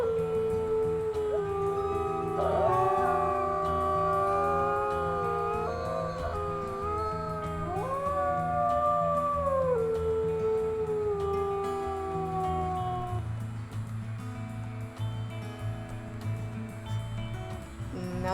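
Wolf howls in the video game WolfQuest rise and glide in long overlapping tones, several voices layered together for over ten seconds before trailing off into a lower sustained background.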